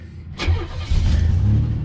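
A key turns in a thirty-something-year-old Buick Grand National V6, which cranks briefly and catches right away, settling into a loud, close, rumbling idle.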